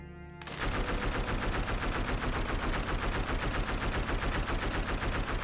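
Rapid continuous gunfire from a weapon in the roguelike game Dead Cells, a loud rattling stream of shots kicking in after a brief quiet start and hammering steadily to the end.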